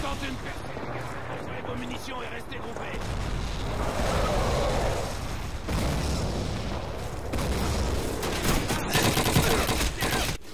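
Dense gunfire and heavy explosions from the World War II shooter Call of Duty 2 roll on almost without a break, loud and continuous, while someone talks over the battle.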